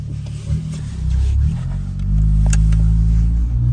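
A BMW M2 Competition engine drones loudly from inside the cabin, a deep steady hum that rises as the car pulls away and accelerates.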